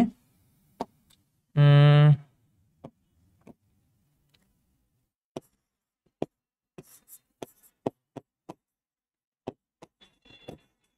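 Pen scratching out a chemistry definition on paper: sparse, brief strokes and taps spread through a quiet stretch, with one short buzzing tone early on.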